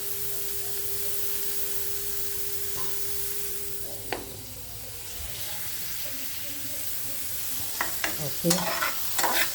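Onion sautéing in a little oil for a Kerala breadfruit mezhukkupuratti, a steady soft sizzle with stirring scrapes, plus a few louder clinks and stirs near the end; one brief spoken word.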